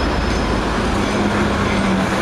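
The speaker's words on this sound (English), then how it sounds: "I'm just trying not to get run over by a tram." A tram rolls past close by on a city street, a loud, steady rumble and hiss that fills the whole moment without a break.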